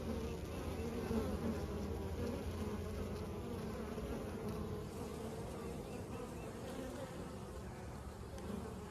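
Honey bees from eight backyard hives buzz steadily in a dense, continuous drone on a mild spring day as foragers bring in pollen, close and unbroken with no talking.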